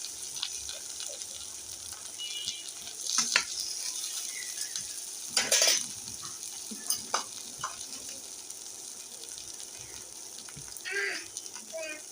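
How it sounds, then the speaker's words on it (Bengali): Eggplant fries in oil with dried chilies in a pan, a steady close sizzle broken by scrapes and clinks of a spatula turning the pieces, with brief voice sounds in between. "বেগুন ভাজা হয়ে গেছে একটু পুড়ে গেছে রে"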